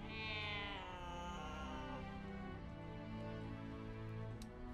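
A cat meows in the Baldur's Gate 3 video game: one drawn-out, wavering meow that slides down in pitch and trails off, close and clear, with no talking.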